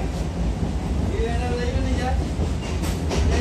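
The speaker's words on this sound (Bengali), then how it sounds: "আমরা এখন শিয়ালদা থেকে ডায়মন্ড হারবার লোকাল ধরে ডায়মন্ড হারবার যাচ্ছি।" A Diamond Harbour local train runs from Sealdah, heard from inside a vendor compartment as a steady loud rumble with faint clickety-clack over the rails and some background voices.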